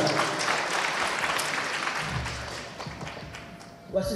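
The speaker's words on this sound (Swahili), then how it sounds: "Tuongeze makofi tafadhali." Audience applause in a Swahili-speaking gathering for award-winning hairdressers, a dense steady patter of many hands that slowly thins out, with a louder burst right at the end.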